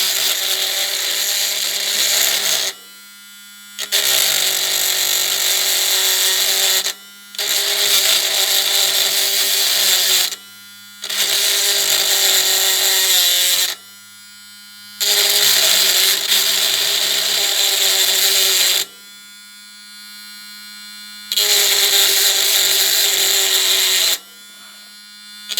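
Power tool deburring metal on a Daimler bus, a loud, steady high-pitched grinding whine running in about six bursts of three to four seconds each, separated by short pauses.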